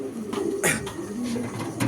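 Pigeons at a breeder's loft keep up a steady close cooing, with soft layered calls from several birds over a constant ambient hum.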